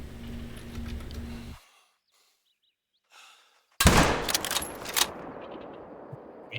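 A hunting rifle shot at an alligator in theHunter: Call of the Wild breaks a near-silent pause with one sudden, loud crack, then a ringing outdoor echo fades.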